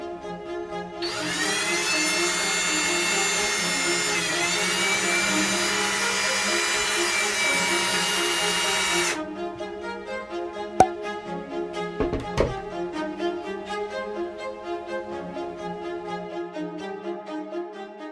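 A power drill bores through a small Dollar Tree toy truck resting on a piece of wood, giving a loud steady whine for about eight seconds, then stopping, followed by a few clicks and handling knocks.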